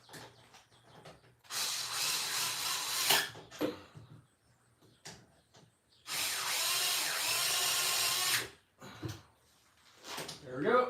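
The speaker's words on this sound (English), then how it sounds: "I should be able to use my snap-on driver for these." Snap-On power driver working on an older two-stroke RC machine in a garage, two bursts of whirring a few seconds apart, with a person talking quietly between them.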